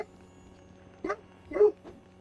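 A pet dog barks close to the microphone, a few short sharp yips spread over about two seconds against a quiet background, with no talking.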